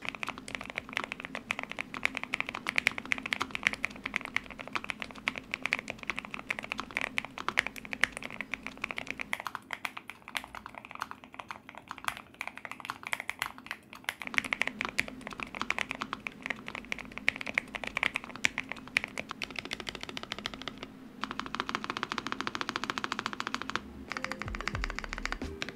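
Steady typing on a slim low-profile keyboard with PBT keycaps, dense soft clacking keystrokes heard close up in a quiet room, without talk.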